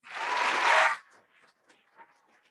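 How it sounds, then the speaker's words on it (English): A round of applause breaks out loud and close, a dense burst of clapping lasting about a second before cutting off to near silence with only faint scattered sounds. "Let's give them a round of applause."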